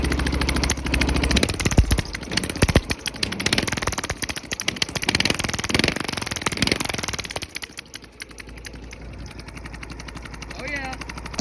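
A lawn tractor engine fitted with a new exhaust runs with a rapid, popping exhaust rattle, loud and choppy, then settles to a softer idle near the end.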